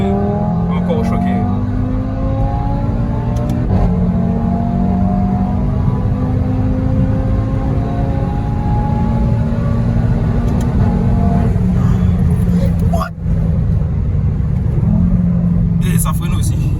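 An Audi RS3 tuned past 500 horsepower accelerates hard at launch, its engine a loud, steady droning roar heard from inside the car, with rising tones as it pulls through the revs and a brief dip around a gear change.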